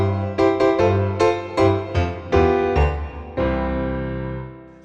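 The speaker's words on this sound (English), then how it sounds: "So this one starts with a little introduction." Piano playing the introduction to a song, a series of rhythmic struck chords over a bass line, ending on a held, ringing chord, close and clear with no voices.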